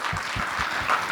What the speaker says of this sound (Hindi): तो हजरतगंज के नाम पे एक बार जोरदार ताली बजाइए।